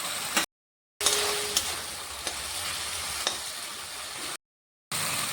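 Capsicum frying in a pan for a paneer curry, a steady broadband sizzle with a few sharp pops and stirring scrapes, broken by two short silent gaps.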